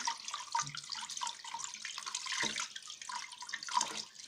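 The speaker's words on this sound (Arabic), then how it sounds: "هنغسله مره واثنين وثلاثه اهو زي ما انتم شايفين تحت الميه الجاريه كده" Running tap water splashes continuously onto raw shrimp being rinsed in a kitchen sink, a steady close hiss with small shifts as the shrimp are turned under the stream.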